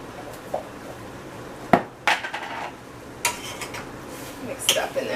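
Saltfish, vegetables and butter beans get stirred in an oiled pan, with scattered sharp clinks and scrapes of a utensil against the pan between quieter stretches of soft sizzle.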